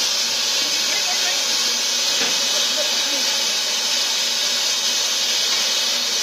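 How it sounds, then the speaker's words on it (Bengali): A Nilgiri toy train steam locomotive on the Mettupalayam to Coonoor line vents steam in a loud, continuous hiss close by, with a faint thump partway through. "কীভাবে জল ফুটছে, এই স্টিমে পিস্টন ঘুরিয়ে চলবে।"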